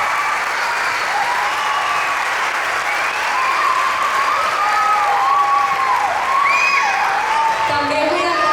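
Sustained applause from a crowd at a children's musical performance fills the whole clip, steady and loud, with a few whistles and cheers rising near the end.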